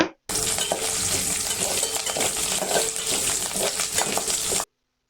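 Dry red chillies and curry leaves sizzle and crackle steadily in hot oil in a pan, a loud, dense frying hiss that runs unbroken and cuts off abruptly, with no talking.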